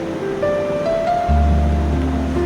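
Water is poured from a container into a kadai set on a gas stove for cooking masoor dal. A thin stream gives way to a louder, heavier gush that rises in pitch as the pan fills, with no talking.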